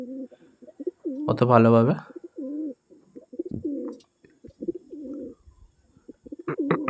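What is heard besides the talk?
Kalanka pigeons cooing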